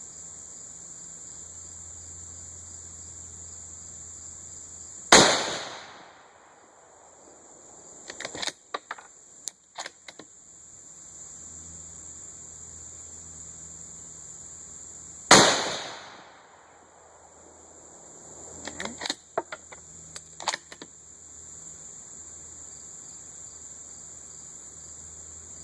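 A Savage 10 FCP-SR rifle in .308 Win fires two sharp, loud reports about ten seconds apart. Each shot rings out and decays, followed by a cluster of lighter mechanical clicks from working the action.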